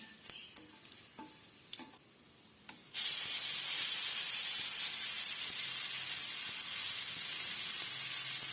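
Grated raw mango dropped into hot oil for mango thokku, bursting into a loud, steady sizzling hiss that continues unbroken after a few quieter clicks and taps of the pan.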